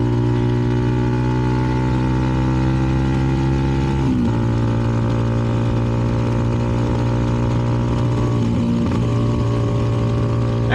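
A CFMoto 300NK motorcycle fitted with a KO exhaust rides steadily with a loud, continuous engine drone, a brief dip in pitch near the middle and again later, with no talking.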